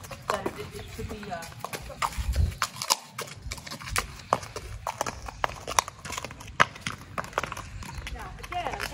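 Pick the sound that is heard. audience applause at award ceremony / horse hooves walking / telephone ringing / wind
horse hooves walking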